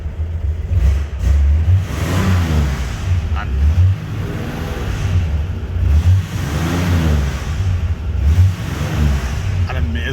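A 1978 Reliant Scimitar GTE SE6 with a 3.0 Essex six-cylinder engine idles and revs, a deep, steady, loud rumble swelling in repeated throttle blips, heard close without talk over it.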